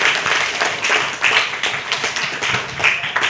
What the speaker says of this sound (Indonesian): Ya, kita berikan aplaus untuk itu